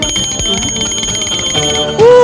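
A pocket bell pager goes off with a short electronic beeping burst at the very end, loud and close, after a stretch of music and background sound.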